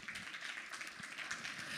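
A conference audience applauds panelists in a hall, a steady, fairly quiet patter of many hands clapping throughout.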